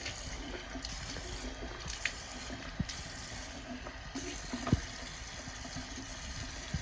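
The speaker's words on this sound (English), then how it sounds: "I'm just going to take and rinse off the sink a little bit." Tap water runs steadily into a bathroom sink being rinsed of toothpaste, a continuous soft trickle and splash with a few small clinks, no talking.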